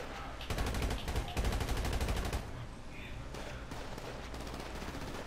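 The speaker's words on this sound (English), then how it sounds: "Are you guys shooting or are they?" Bursts of automatic gunfire in the GTA 5 video game rattle in rapid volleys, several separate strings of shots close together, with a quieter stretch between and a few later bursts.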